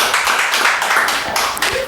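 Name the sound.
audience applause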